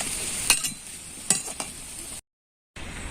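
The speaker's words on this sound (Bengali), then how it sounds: "দেখো বন্ধুরা মুগ পুলিগুলো প্রত্যেকটা আমার ভাজা হয়ে গেছে" Mung dal puli pitha frying in oil, a close, soft sizzle with a few sharp clinks of a utensil against the pan, cut by a brief silent gap.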